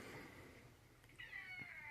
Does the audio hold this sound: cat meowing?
yes